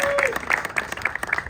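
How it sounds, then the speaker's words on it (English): A crowd at a New York political event claps for a young rising-star guest, brief uneven applause with distinct individual claps, mixed with a voice talking over it. "Let's give him a round of applause."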